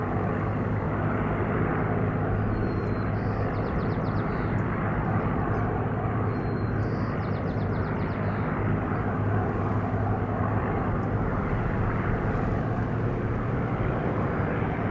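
Fighter plane with a more powerful BMW engine flying in the IL-2 flight combat game, a steady loud engine drone holding constant throughout with no pauses or talk.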